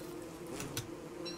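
A swarm of bees buzzes in Don't Starve Together, a steady droning hum with a few brief, sharper flutters layered over it, fairly faint and continuous with no voices.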